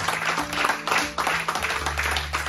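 A church congregation applauds, steady close clapping from many hands with a sustained musical tone and a voice running underneath.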